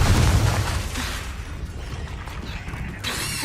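A Confringo spell explosion in the video game Hogwarts Legacy, a loud booming burst at the start that fades into a rumbling tail, followed by another whooshing magical surge near the end.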